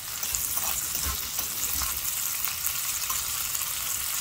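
Sausage fries in a pan for stuffing, giving a steady, close, even sizzle with faint crackles and light scraping throughout and no talking.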